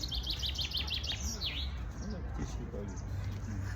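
Birds on the bank of the Irtysh river at Semey, Kazakhstan, give a quick run of high, bright chirps early on, then fall quiet. Voices talk nearby over a low outdoor rumble.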